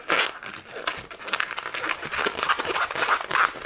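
A long latex balloon is twisted into a one-inch bubble for a teddy bear balloon animal, a close, continuous rubbery crinkling and squeaking with no talking.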